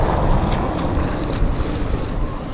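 Ocean water moving at stone steps leading down into the sea on a Lisbon waterfront, a steady loud wash of surf mixed with heavy wind rumble on the microphone, with no voices.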